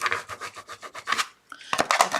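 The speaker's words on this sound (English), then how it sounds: "I'm going to scrape it" A scraper rubs repeatedly across vinyl on a Cricut craft project, giving quick, close, quiet strokes in a steady rhythm, then a short pause and a few harsher scrapes.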